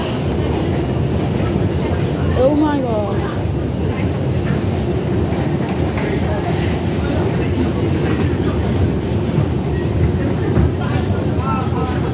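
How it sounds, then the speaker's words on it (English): A metro train runs at the low-level platforms of Monument station, a steady rumbling roar filling the whole stretch with faint squeals, under a brief exclamation. "Oh, there goes the metro too."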